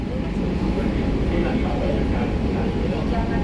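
Steady, loud rumble of a new Kolkata metro train running from Behala Taratala to Joka, heard from inside the carriage as a continuous droning roar with no breaks.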